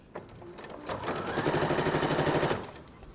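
A sewing machine stitches around the neckline of a christening gown, running in short starts before building into a steady, rapid close-up whir of needle strokes for about a second, then slowing to a stop.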